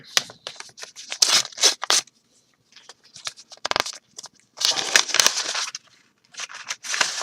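Paper tears and crinkles up close as an NFL sweepstake envelope is ripped open, coming in several quick, rough bursts separated by short pauses.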